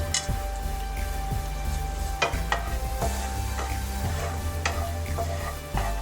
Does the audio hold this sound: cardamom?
yes